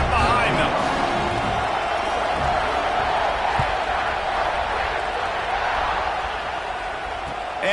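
A dense, steady roar from a football stadium crowd at an Ohio State game's kickoff holds loud and unbroken throughout, with a voice talking over it.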